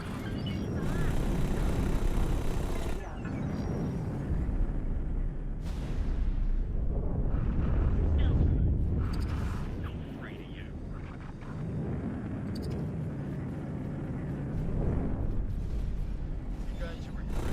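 Missiles firing and detonating in the space game X4, a dense run of booming blasts and rumbling impacts layered over constant engine and combat noise, loud throughout with a voice talking faintly underneath.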